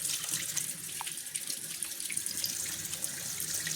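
Tap water runs steadily into a sink while a mixer-grinder jar, used for adai dosa batter, is rinsed. The rushing hiss is close and continuous, with no talk.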